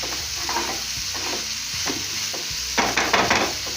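One tomato frying in a pan for sambar, with a steady sizzle in the background and intermittent stirring scrapes that grow busier and louder near the end.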